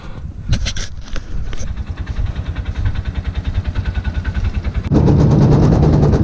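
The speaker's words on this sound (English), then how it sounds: "it basically makes this noise because the drive shaft is like bent on it and the four-wheel drive is just loose, so that's why it's making this rattle noise" A four-wheeler with a bent drive shaft and loose four-wheel drive, a loud, fast, regular mechanical rattle pulsing close by, then a louder steady engine roar at the end.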